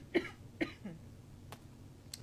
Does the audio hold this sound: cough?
yes